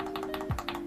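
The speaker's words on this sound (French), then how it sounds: "on vient mettre la première touche" Short, light tapping clicks come at a quick, uneven rhythm as keycaps are pressed onto a custom mechanical keyboard, close and crisp over a steady background hum, with no talk.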